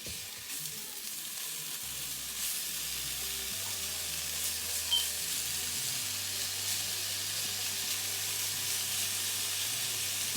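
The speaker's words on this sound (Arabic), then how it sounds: "من بعد ما قطعنا لي ماركاز ديالنا غادي نديرهم يتقلاو." Cut merguez sausages frying in a pan, a steady close sizzle with broadband crackle throughout and a low hum underneath, with no voices.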